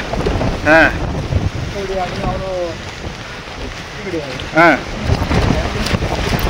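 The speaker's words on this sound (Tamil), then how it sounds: "காற்று அப்படியே அடித்து தள்ளுது" Strong gusting wind buffets the microphone on an exposed Himalayan mountain slope during a trek toward Agathiyar, a steady rough roar with brief voice-like calls rising over it.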